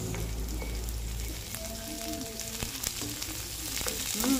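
Onions fry in a pan with a steady close sizzle and crackle, broken by a few stirring clinks and a faint tone. No one speaks.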